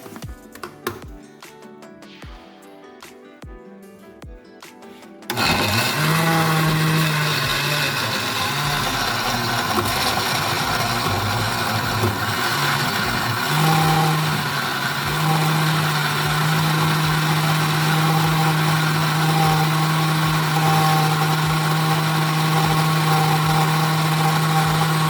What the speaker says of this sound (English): we looking to put it down the blender and start to blend up this thing.